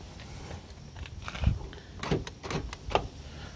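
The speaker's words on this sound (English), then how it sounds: "Let's test out the door handles." Door handles and locks on a 1999 Jeep Cherokee XJ two-door give sharp clicks and clunks, a handful of separate mechanical snaps and latch knocks close by over a low background hum.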